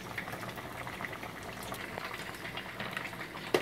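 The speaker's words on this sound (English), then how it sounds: "we have to drain the water from the eggplant." Water from boiled eggplant (garden egg) being drained through a sieve, a steady wash of pouring and splashing liquid with a brief louder splash near the end.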